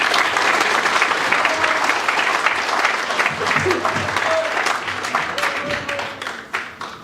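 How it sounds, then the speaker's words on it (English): Rally crowd at a Workers Party election event applauds a Bethnal Green and Stepney candidate, loud, dense clapping that gradually thins and fades toward the end, with a few voices mixed in. "Please welcome him with a round of applause"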